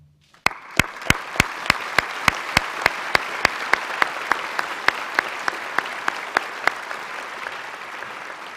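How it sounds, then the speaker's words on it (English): Applause at a 2022 convocation for a graduating class: a broad wash of many hands clapping throughout, with one sharp, close, evenly spaced clapper standing out in a steady beat. "Let's pause again and just applaud them."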